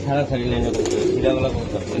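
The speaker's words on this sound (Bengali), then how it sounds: "জিরা গলা কবুতর ভাই" A Zira-necked pigeon gives low, soft coos up close, with a voice speaking over them.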